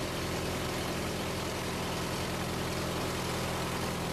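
A Van's RV-8 aircraft engine running at reduced, near-idle throttle, giving a steady, loud, unbroken rumble with a low-pitched drone and broad noise over its full length, with no speech.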